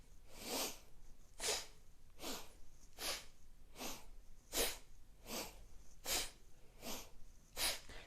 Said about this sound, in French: On inspire en haut. Expire en bas.